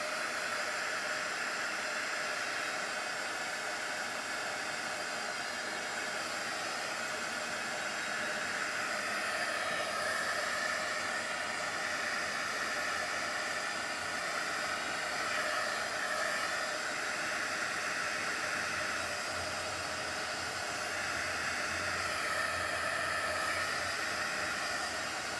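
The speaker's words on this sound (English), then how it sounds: "let's hit that with the heat gun real good" A heat gun blows steadily over watercolor paint, a quiet continuous airy hiss and fan whir lasting throughout with little variation.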